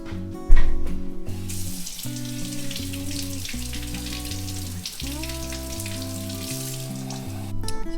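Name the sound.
cold tap water running into jar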